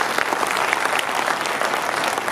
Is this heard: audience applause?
yes